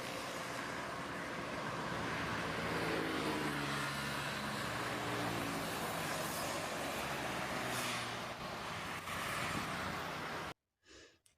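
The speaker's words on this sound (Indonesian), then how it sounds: "Mobil bergerak, Bu. Bus melaju dengan cepat." Cars and a bus move fast through road traffic, giving a loud, continuous roar and rumble of passing vehicles with no voices, ending abruptly in near silence.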